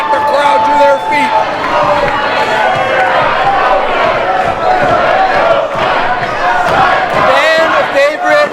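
A wrestling crowd on its feet at a Brooklyn show, a loud, sustained roar of cheering and shouting voices that stays dense and energetic throughout.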